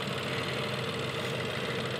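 The small turbocharged three-cylinder engine of a 2024 Buick Encore GX Sport Touring idles with a steady, close, even hum and no breaks.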